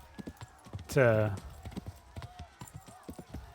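Horse hooves clip-clopping at a fast, regular gallop in the medieval game Kingdom Come: Deliverance, with a player briefly speaking and a loud whinny cutting in early.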